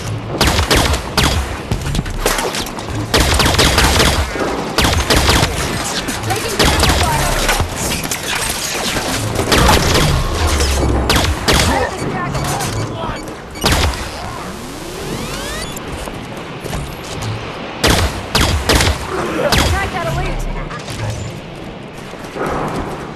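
Dense, sustained gunfire in the Halo 5: Guardians video game, with rapid overlapping shots, crashes and bursts filling the whole stretch at high loudness while a voice calls out briefly underneath.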